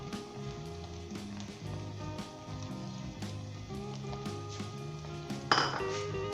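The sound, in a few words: stirring egg onion curry in pan with utensil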